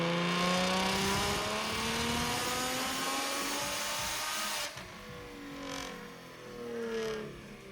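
A BMW E60 M5 engine revs hard on a dyno, its pitch sweeping upward in a loud, sustained pull before cutting off abruptly, then a few quieter blips and a softer second rise as it winds down.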